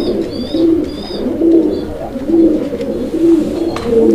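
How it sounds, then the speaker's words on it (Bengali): A pair of short-face pigeons cooing close by, repeated rhythmic low coos rolling every second or so, with faint chirps above and no talk. "কবুতরের ডাক দেখছেন, একদম ভরপুর ডাকের একটা পেয়ার"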